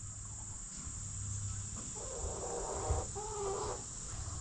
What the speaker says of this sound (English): Chicken. Hi, chicken.